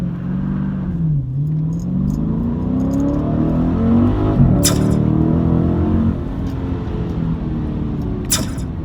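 A 2019 Dodge Challenger Scat Pack launching in second gear for a 0-60 run, the engine revving hard and climbing through gears as it accelerates away, loud and close with a couple of brief clicks.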